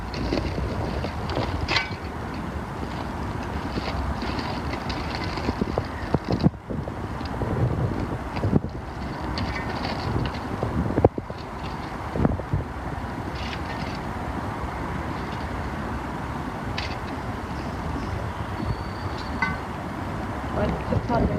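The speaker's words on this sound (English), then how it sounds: "it's pretty windy here where we live" Steady gusting wind buffets the microphone throughout, a constant low rumble with occasional bursts and brief dips.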